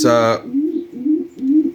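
A pigeon coos close by, three soft low rolling coos in a row after a brief higher note at the start.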